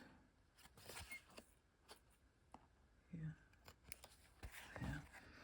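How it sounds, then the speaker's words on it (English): Small scissors trimming around a stitched piece, with quiet, close crisp snips spaced irregularly, with a few soft handling noises and a faint voice between cuts. "I will take my little scissor here and trim it around"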